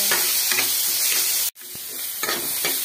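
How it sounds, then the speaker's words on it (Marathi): Chopped tomatoes stirred through a sizzling pan, a bright steady sizzle broken by regular scraping strokes of a spoon, with a brief dip around the middle before the frying hiss resumes. "आता ह्याच्यामध्ये टमाटे टाकून द्यायचे। चांगला हलवायचं।"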